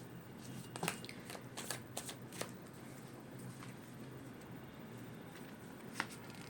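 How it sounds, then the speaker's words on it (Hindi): Tarot cards being shuffled by hand, a quick run of crisp flicks and slaps in the first few seconds with a single card snap near the end, close and quiet. "कार्ड्स खुद ही आज गिर रहे हैं, सारे कार्ड देख लीजिए।"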